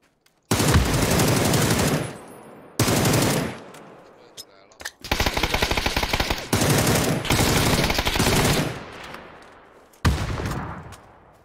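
Automatic gunfire in a shooting video game, long loud sustained bursts separated by short gaps, with some talk mixed in beneath the shots.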